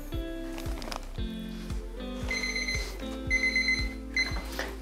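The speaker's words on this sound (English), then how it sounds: "So once your timer's gone off" A lash lift timer alarm goes off, sounding a steady run of repeated electronic beeps at close range with no talking.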